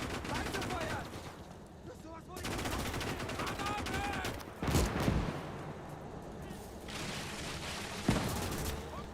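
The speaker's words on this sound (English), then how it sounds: "Excellent shooting so far by the men." Soldiers' rifles and machine guns rattle in bursts during a WW2 battle in the video game Gates of Hell: Ostfront, with heavier booms now and then and voices shouting beneath the distant, layered gunfire.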